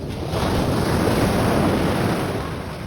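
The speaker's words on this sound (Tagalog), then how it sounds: "So ganito nga kalakas yung alon" Strong ocean waves at Kite Beach in Dubai rush in as a loud, continuous wash of surf, with wind buffeting the microphone and no voices.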